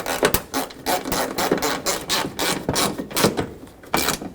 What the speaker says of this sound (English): and now you can put this bolt in on the front.